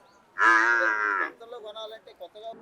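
A buffalo at the Erragadda Sunday buffalo market moos once in a loud, close, drawn-out call lasting nearly a second, followed by faint, choppy voices in the background.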